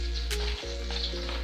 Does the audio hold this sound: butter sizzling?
yes